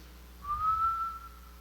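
A voice whistles a single smooth, casual note that rises slightly and holds for about a second, imitating Joseph whistling idly. It sounds clear and close against a faint low hum.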